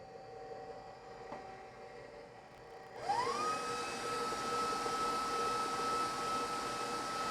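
An electric mixer starts up partway through and whirs steadily as it mixes sweetened condensed milk for a key lime pie, after a quiet stretch of room noise.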